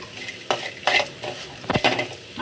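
Cooked rice being stirred into a coconut mixture in a pan, with scraping spoon strokes and a light sizzle, several quick rhythmic stirs close up and alone.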